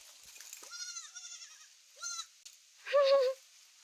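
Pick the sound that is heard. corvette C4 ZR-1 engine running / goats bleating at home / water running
goats bleating at home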